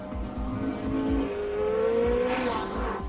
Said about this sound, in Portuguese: Nesse modo, o motor V8 de corrida é que produz a maior parte da potência.